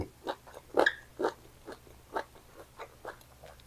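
Crunchy chewing of grilled squid cheeks close to the mic, a series of crisp bites and munches at a steady rhythm, with no talking.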